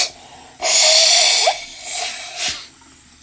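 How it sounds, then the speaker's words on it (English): A loud, forceful nose blow, followed by two shorter snorting blows, close and clear with no talking. "this is when you want to blow your nose"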